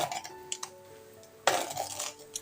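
Curry stirred in a pot, a spoon scraping and clinking against the metal in a few light taps, then a louder clattering scrape, close and without speech.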